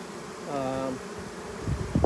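Honey bees buzz around beehives in a bee yard, a single close buzz rising and falling briefly before fading into soft background hum and faint handling noises.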